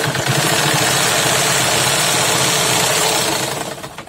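A sewing machine stitching perforations into paper receipts runs as a loud, continuous mechanical whir with rapid rattling needle strokes, heard alone and easing off at the end.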